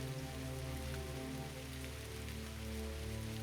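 Steady rain falls over a glade, an even hiss of drops on the ground held at a faint level throughout, beneath a low sustained hum with no voices.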